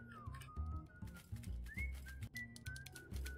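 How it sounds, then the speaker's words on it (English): A person whistles a wandering melody over game music with a steady bass pulse, in a scene from the adventure game Shadows Over Loathing; the whistled line is thin and moderately clear, gliding between held notes. "I was wondering where the whistling was coming through"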